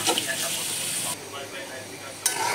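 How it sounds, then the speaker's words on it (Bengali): Onion frying with turmeric, chilli, salt and coriander powder in a home kitchen, a loud close sizzle that drops abruptly and then surges again as spices go in, with a voice talking over it. "এখন পেঁয়াজটা দিয়ে দিলাম, সাথে হলুদ মরিচ লবণ ধনে গুঁড়ো"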